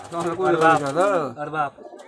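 Large domestic pigeons coo in a rounded, throaty rising-and-falling phrase close by, with a second shorter coo following, while a voice speaks over them.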